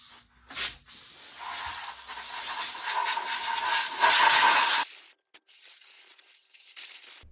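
Compressed air blasting through a Foredom flex shaft on a jewelry bench, a loud steady hiss for several seconds that cuts off, followed by shorter bursts of blowing.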